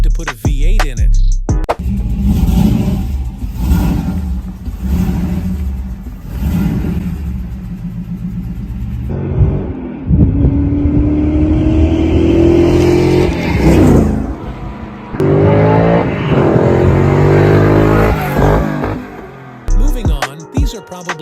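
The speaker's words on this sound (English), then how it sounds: "we got the Rich Rebuilds V8 swapped Tesla" A flood-damaged Tesla with a V8 engine swapped in rumbles loudly and revs repeatedly, the pitch climbing on each throttle blip, with a sharp cut near the start and end and no one talking over it.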